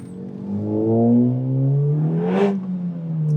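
A Honda Civic Type R (FK8) exhaust drones low and steady while driving, rising briefly in pitch with a short whooshing burst before settling back.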